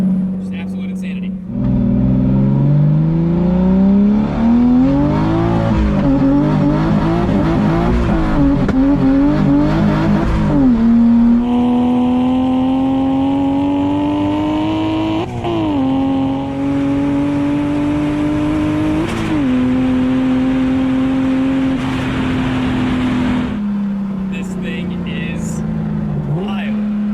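A 1300 hp turbocharged BMW E46 M3 with an S54 engine revs hard and accelerates, its loud, close engine note climbing repeatedly through gears with brief drops between pulls.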